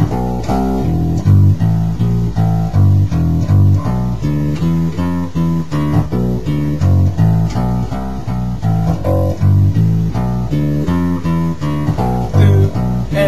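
Double bass plays a walking turnaround line in D, steady plucked notes in even rhythm, close and fairly loud with no speech.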